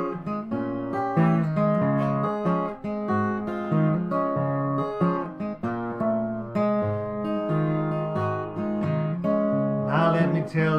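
A ragtime blues guitar plays a short part of a tune, with plucked picked notes and a steady bass line in a lively rhythm, heard up close and alone.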